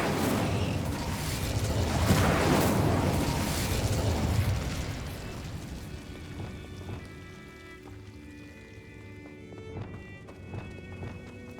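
An Incendio fire spell in Hogwarts Legacy erupts with a loud whooshing, roaring burst of flame and rumbling impacts, then dies down into quieter crackles and scattered game effects.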